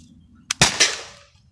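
Air rifle shots from a T4E TR50 and a modded Crosman Vigilante fired outdoors at a trash can about 45 feet away: a sharp snap, then a louder crack with a brief ringing tail fading over about a second.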